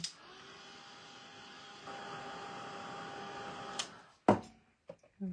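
A hair dryer blowing on fresh paint on a wooden stenciled sign: a steady motor whir with a slight shift midway, then a click as it shuts off, followed by a few brief knocks.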